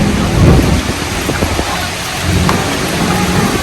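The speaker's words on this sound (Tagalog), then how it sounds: "Lumakas ulit ang ulan, oh." Heavy rain pours outdoors in Manila, a loud, dense, steady roar of water with low rumbling underneath and no one speaking.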